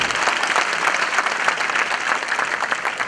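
Audience applause at a direct selling company event, steady dense clapping filling the room at a loud, even level throughout with no break.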